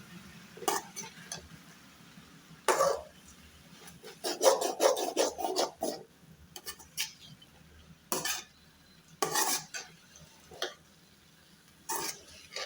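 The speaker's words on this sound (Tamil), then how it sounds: "அடி பிடிக்காமல் நல்லா வந்து கிளறி விடுங்க." A spoon scrapes and stirs cooked ragi vermicelli khichdi in a pan in short, irregular bursts of rasping strokes, close and moderately quiet, with brief pauses between them.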